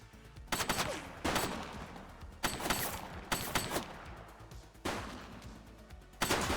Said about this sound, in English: Shots fired! Suspect down.